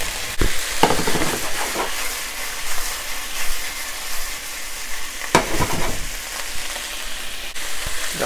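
Onions and garlic sizzle in a hot pan after the beef is browned for a Japanese golden curry, a loud, steady frying hiss broken by a few sharp scrapes as the pan is stirred.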